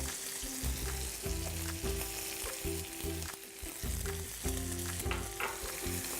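Garlic and sweet Maui onion fry in a pan for fried rice, a steady close sizzle with repeated stirring and scraping knocks throughout, no voices.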